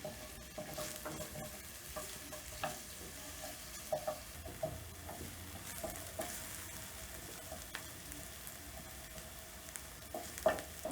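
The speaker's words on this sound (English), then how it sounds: "And I'll cook this until soft. So you saute while stirring." Onions sautéing in a pan for samosa filling, a faint soft sizzle with scattered scrapes and taps of a spoon as they are stirred, quiet and close.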